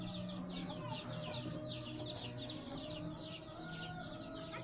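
Two full-grown short-nose long-tail roosters cluck steadily and close up, with busy chirping and clucking from other fowl filling the background throughout.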